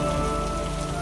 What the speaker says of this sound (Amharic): ዝናቡ ኃይለኛ ቢሆንም